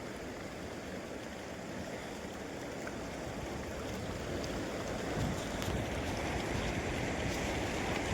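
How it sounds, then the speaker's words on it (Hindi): River water flows steadily beneath a bridge, a soft continuous murmur of a stream with a faint splashing texture, quiet and unbroken throughout. "नदी की कलकल अच्छी लगती है, और यहाँ से जो पानी बह रहा है इसकी आवाज़ मुझे बहुत ही अच्छी लगती है।"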